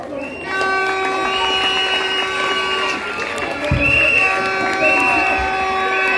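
An audience at a school proclamation applauds and cheers in a steady, dense wash, with sustained tonal sounds running over the crowd noise throughout.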